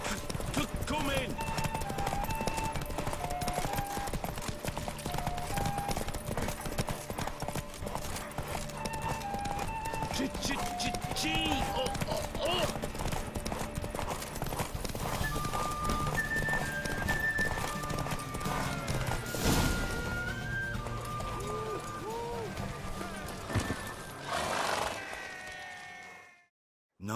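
Hooves clatter at a steady gallop throughout in The Witcher 3: Wild Hunt, with horses whinnying now and then over a busy game soundtrack and a sharp burst near the end.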